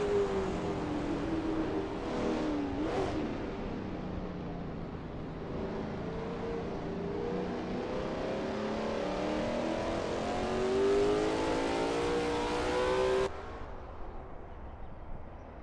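A Lola T70 MkII Spyder race car in a racing video game at Riverside roars steadily through the esses, its engine note rising and falling with shifts and revs, up close and continuous before cutting off near the end.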